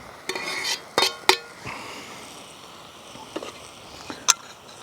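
Pork shoulder steak and halloumi being stirred in a camping pot, with a few sharp metallic scrapes and clinks of a utensil against the pot over a faint background hiss.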